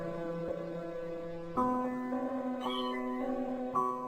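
A white cat meowing, drawn-out tonal cries repeated several times in close succession, fairly clear and near, with no voices alongside.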